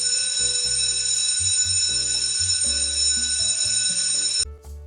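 An exam-time signal rings out, a loud bright electronic bell-like alarm that rings continuously for about four and a half seconds and then stops, heard alone without talk.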